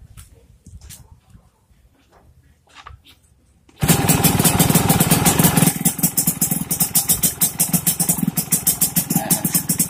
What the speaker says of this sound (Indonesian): Nah, motornya hidup ya Mas Bro ya.